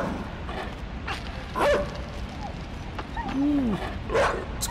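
Dogs bark and yip in pursuit of the player in the video game INSIDE, several sharp close barks with whimpering whines scattered over a steady dark ambient background.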